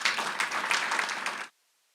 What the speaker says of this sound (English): if we could all give Dave Graham a big round of applause